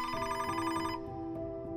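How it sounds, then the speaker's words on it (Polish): A telephone ringing sound effect, a bright electronic ring that cuts off partway through, followed by a fainter fading tone, alone with no speech. "państwo Harrington otrzymali niepokojący telefon"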